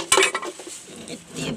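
Dirty pots and dishes clank together during household cleaning, a couple of sharp metallic clinks at the start followed by softer scraping and rattling, close by and brief.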